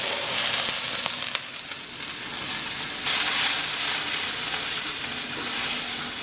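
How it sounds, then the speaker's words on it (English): Onion sautéing in olive oil in a pan, a dense, loud hiss of frying that swells and eases over several seconds with a few faint utensil knocks, close up and without talk. "Put some olive oil in a pan, and we saute off our onion"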